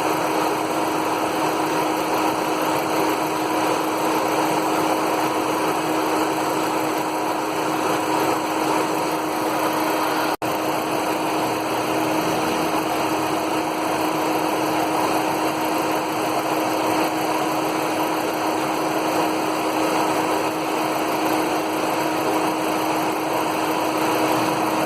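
A 2004 Ford Ikon engine runs steadily at idle, a continuous hum with a strong fixed tone and high whine, unchanging for the whole stretch, close to the microphone and without voices.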